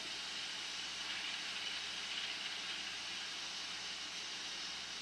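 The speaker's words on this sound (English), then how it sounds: "get the rest of that steam out of it." Steam hisses out of an Instant Pot pressure cooker in a continuous, even rush of noise, softened under a tea towel, with no talk.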